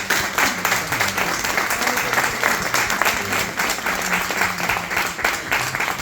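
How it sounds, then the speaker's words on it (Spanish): An audience applauds warmly, with dense, sustained clapping at even strength throughout, mixed with faint crowd murmur and possible voices underneath. "Un aplauso."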